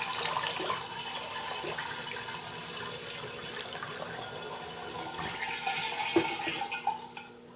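Sanitizer solution pours through a funnel into a carboy while a beer kit is being brewed, a steady close watery rush and trickle with faint sloshing, no talk.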